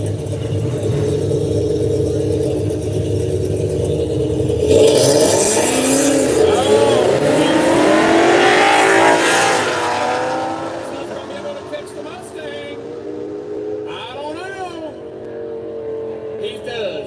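A Mustang racing in a no-prep drag race: a loud engine and tire roar builds and peaks near the middle, then fades to a lower rumble, with a commentator's voice talking over the track noise.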